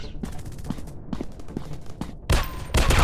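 Rapid gunfire bursts crackle in an FPS shooting video game, with repeated shots in quick succession and a louder, denser volley near the end.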